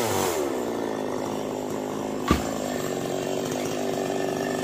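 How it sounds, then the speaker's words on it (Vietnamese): A chainsaw runs steadily, cutting branches from a heavily fruiting fig tree, its loud continuous drone holding throughout with one sharp knock midway. "lúc mình về thì anh Sang anh cưa được nhánh rồi"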